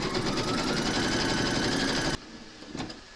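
Embroidery machine stitching an appliqué outline in the hoop for a large scarecrow design, a loud steady rapid needle chatter that cuts off abruptly, followed by a quiet pause and a faint brief clatter.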